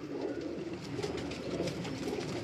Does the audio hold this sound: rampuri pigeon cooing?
yes